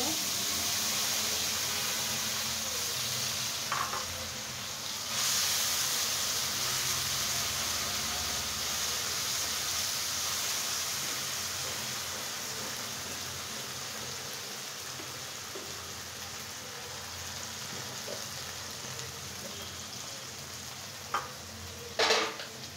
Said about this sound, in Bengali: দিয়ে এখন আমি আলুগুলাকে ফ্রাই করে নেব।